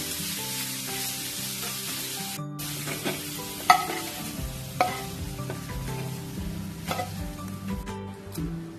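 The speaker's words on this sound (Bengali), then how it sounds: "চিংড়ি মাছগুলো দেখো আমার হালকা করে ফ্রাই হয়ে গেছে।" Prawns sizzle steadily in hot oil in a pan while a spatula stirs them, with intermittent clinks and scrapes over the continuous frying hiss and music playing softly underneath.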